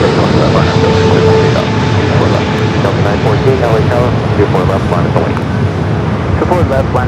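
A Delta airliner taking off at LAX makes a loud, steady roar mixed with wind noise, while tower radio chatter plays over it throughout.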